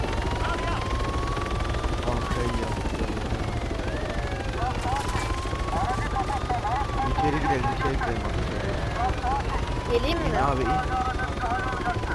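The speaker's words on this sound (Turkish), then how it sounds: "bir helikopter" A helicopter's rotor thrum in the video game Arma 3 drones continuously beneath game sound effects and bursts of gunfire during a bank robbery, while people talk over it.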